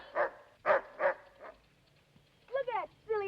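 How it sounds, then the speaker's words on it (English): An old dog barks in short bursts while chasing birds, about four quick barks followed by rising whining yelps, moderately close against a quiet background. "Look at that silly old dog chasing birds."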